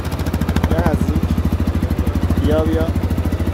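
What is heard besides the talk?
250cc motorcycle engine running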